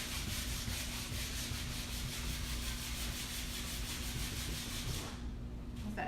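A buffing brush rubs rapidly back and forth over a waxed finish, a close, fairly loud steady swishing in quick repeated strokes that stops near the end, with no talking.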